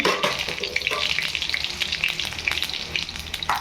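Mustard seeds frying in hot oil while cooking dal kanda, a steady crackling sizzle with dense popping and spattering, close and continuous, no talk.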